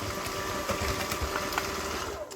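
An electric mixer whirs steadily, creaming peanut butter and butter together for a cookie dough, close and loud with a slight rhythmic knocking from the beaters.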